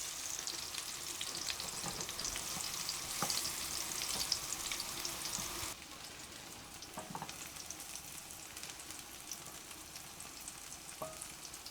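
Tomato frying in an oiled pan for a Rasht-style pomegranate chicken stew, with steady close sizzling and crackling and occasional stirring clicks, quieter after midway, with no talking.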